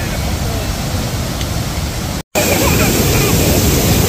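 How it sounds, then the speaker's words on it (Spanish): Steady roar of the upper waterfall at Iguazú Falls in the jungle, a loud broadband rush of falling water that cuts out briefly midway and then resumes just as strong. "La cascada superior."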